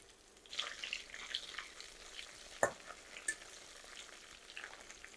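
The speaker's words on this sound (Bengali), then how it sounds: "কয়েক কোয়া রসুন নিয়েছি, 3 কোয়ার মতন বড় রসুনটা নিলাম, সেটা ভাজতেছি।" Garlic cloves fry quietly in a pan with a soft, low sizzle and faint stirring, broken by one sharp clink of a utensil against the pan midway and a lighter tap shortly after.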